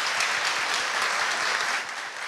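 Audience applauds for a musician at a tribute concert, a dense steady burst of clapping from a sizable crowd that holds evenly before easing slightly at the end.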